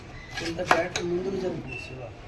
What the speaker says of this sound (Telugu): మనం పట్టుకున్న చిన్నపై కారం వేసి ముక్కలకి బాగా ఒక ఒకసారి కలుపుకోవాలి